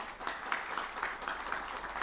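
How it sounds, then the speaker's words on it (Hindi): Applause at a News18 TV show welcoming YouTuber Manish Kashyap, a steady wash of clapping with regular brighter peaks roughly every quarter second, moderately faint and alone. "स्वागत कीजिए, जोरदार तालियों के साथ"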